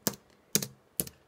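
Keys pressed on a computer keyboard, three close, crisp double clicks spaced about half a second apart, heard alone in a quiet room.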